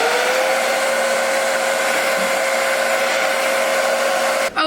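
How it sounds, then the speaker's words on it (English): A handheld blow dryer runs on its cool setting during a wig install, a steady loud whir held evenly throughout, cutting off briefly at the very end. "I'm putting my blow dryer on the cool setting"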